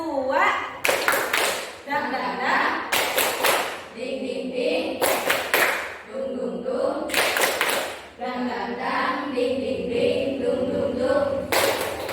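Rhythmic Indonesian 'tepuk semangat' group clapping chant in a classroom, bursts of claps in a patterned rhythm alternating with children's voices chanting along, close and loud.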